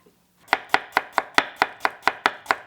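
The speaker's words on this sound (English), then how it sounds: "Slice thinly." A knife slices vegetables thinly for water kimchi, such as red radish, cabbage, garlic and ginger, on a cutting board: about ten crisp, evenly paced chops, close and clear, with no talking.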